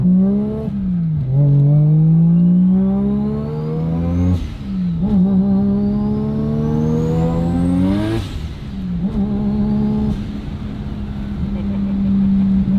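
Three-rotor Mazda RX7 with a 75mm turbo revs hard on the street, its loud engine note climbing in repeated pitch sweeps with gear-change dips as the tires start breaking loose.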